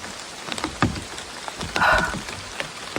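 Rain falls in a forest and patters onto leaves and surfaces as a constant spattering hiss, with a few louder drips and one brief rustling swell in the middle.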